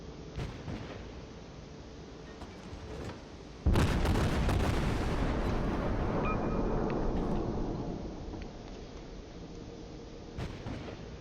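Ship guns fire in the naval combat game World of Warships, with a heavy booming salvo that rumbles and decays over several seconds amid fainter thumps and ambient battle noise.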